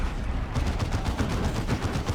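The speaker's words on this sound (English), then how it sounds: "Plasma cannon and heavy bolters. Lots of pew pew." Plasma cannon and heavy bolters fire in a 3v3 match of the video game Dawn of War 2. A dense, loud, continuous barrage of rapid shots and blasts fills the whole stretch.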